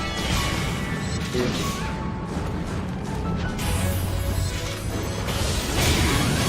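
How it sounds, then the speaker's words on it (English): A launcher weapon firing in PSO2, played as a Ranger: dense, loud blasts and crashing impacts with mechanical clatter and whooshes, layered continuously in busy game action with no speech. "I'm gonna be using my launcher."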